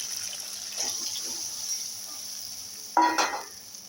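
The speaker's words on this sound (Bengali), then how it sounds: "আমি বড়াটা একটু ভিজিয়ে রেখেছিলাম, সেই জলটা দিয়ে দিচ্ছি।" Soaking water from pea lentil fritters is poured into a simmering curry, bringing a brief loud splash and gurgle over a steady low sizzle from the pot.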